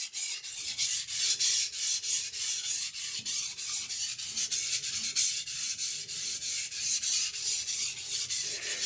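A knife is sharpened on a Shapton Pro whetstone with push and pull strokes: a steady rhythm of gritty, scraping rasps, roughly two per second, close and loud, with no voices.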